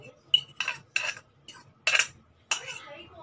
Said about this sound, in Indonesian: Kemudian kita aduk lagi sampai rata.